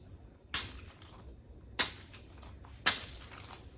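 Three sharp, separate pops from a fidget toy, close and crisp, spaced about a second apart with quiet between them and no talking.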